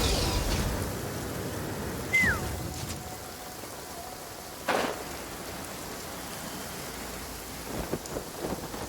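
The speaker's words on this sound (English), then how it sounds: "Rain." Steady rainfall in the fantasy video game Genshin Impact hisses evenly throughout, with a couple of brief brighter swells and faint sparkling effects, no voices present.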